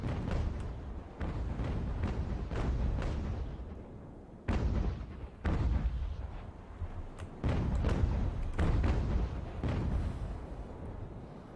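Ship cannon fire in the Ultimate Admiral: Age of Sail video game, a sequence of deep booming broadside shots, some close together and some spaced apart, heard loud over a steady rumbling battle background.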